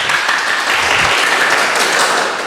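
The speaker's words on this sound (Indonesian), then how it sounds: "Tepuk tangan dong." An audience breaks into loud applause to welcome a guest at a casual talk-show gathering with a village head. The clapping is dense and sustained, holding steady from start to finish.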